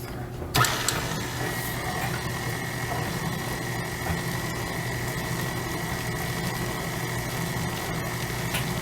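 An electric mixer whisks powdered sugar into pumpkin frosting, a steady close mechanical whir with a constant motor drone that runs without a break after a brief start.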